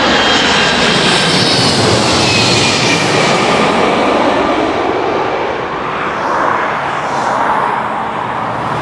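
A plane flies overhead near a London airport, its engine roar loud and continuous, broadband and rushing, swelling and shifting slightly in pitch as it passes for the full stretch with no talk.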